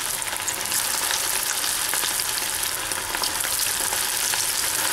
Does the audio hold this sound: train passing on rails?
no